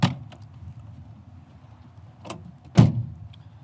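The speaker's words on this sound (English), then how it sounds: "Power sliding rear window." The power sliding rear window on a 2021 Chevy Silverado RST Z71 pickup makes short, faint motor whirs and a sharp thunk as it closes, close by with quiet cabin background.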